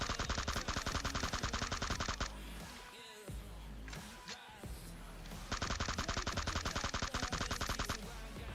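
Automatic M4 rifle fire from the video game PUBG Mobile, two loud rapid bursts of many shots, one at the start and one near the end, with a quieter gap between them.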